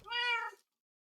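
A single clear, high cat meow in Minecraft, close and fairly loud, cutting off into silence.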